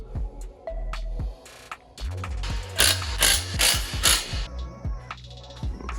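A ratchet wrench tightens exhaust bolts on a Corvette during a new exhaust installation, giving repeated rapid clicking bursts with metallic gear chatter, loud and close, with no speech over it.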